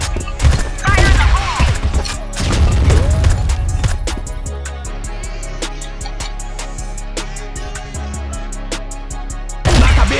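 Rapid gunfire and explosive blasts from a Crossfire firefight, with a heavy grenade burst near the start, then a steady run of sharp automatic shots, loud and close, ending in another burst.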